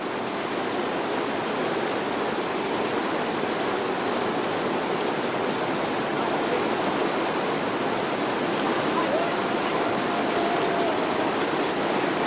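Steady broadband rush of river water on a Nepalese river at a kayak and raft takeout, loud and continuous throughout with no voices.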